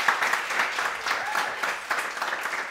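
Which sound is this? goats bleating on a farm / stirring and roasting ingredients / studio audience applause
studio audience applause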